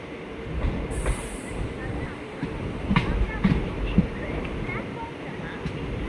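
A train rumbles along steadily with occasional rattles and clanks from the cars, while voices talk over the noise.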